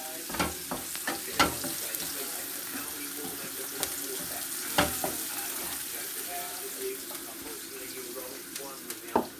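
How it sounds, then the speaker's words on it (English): Chopped onions frying in a pan with curry powder and crumbled Maggi cube for a black-eyed bean stew, a soft steady sizzle broken by several sharp close scrapes and taps of stirring. "Let the onions brown a little bit."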